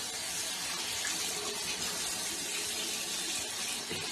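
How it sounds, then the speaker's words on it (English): Lukewarm tap water runs steadily into a bathroom sink, a constant full splashing hiss with no breaks. "Let's turn on the water though."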